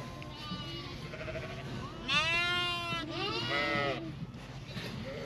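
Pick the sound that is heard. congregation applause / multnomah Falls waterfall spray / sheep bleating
sheep bleating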